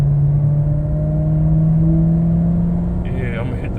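A 2011 Chevy Caprice PPV with a 10% underdrive harmonic balancer, stock new air filter and a half E85, half 93 fuel blend idles loud and steady up close, rising briefly toward the end with a faint voice underneath.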